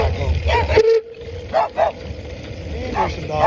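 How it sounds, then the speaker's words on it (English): Dogs chase a cyclist, giving several sharp, loud barks and yips in short bursts close by, with a rider's voice heard in between. "And there's some dogs chasing me."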